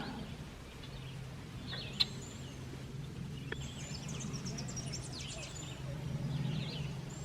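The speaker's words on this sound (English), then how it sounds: "I hear the red-winged blackbirds right next to me." Red-winged blackbirds call faintly and intermittently on a May morning hike in Jefferson Memorial Forest, with short chirps scattered over a low, steady background hum.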